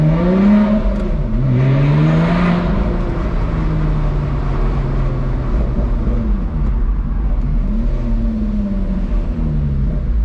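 A Lotus sports car drives and accelerates hard, its engine note climbing and falling through repeated gear changes, loud and close throughout.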